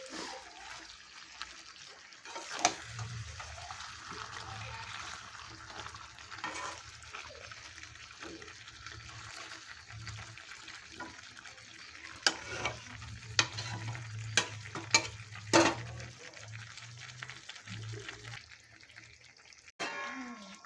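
Chicken stomach, liver and potatoes stir-frying over low heat, a faint continuous sizzle under slow stirring, with scattered metallic clinks and scrapes clustering toward the later part and no talking.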